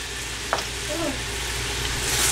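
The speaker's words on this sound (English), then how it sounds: "Stir this mixture very well." A spoon stirs a dry sambol mixture of seeds, dry chili and chili powder, giving a soft continuous scraping hiss with one brief sharp tap early on, close and steady, with no talking.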